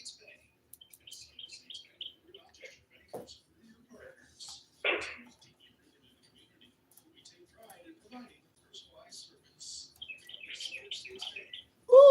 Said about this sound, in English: ooh, I hear a bird in the background.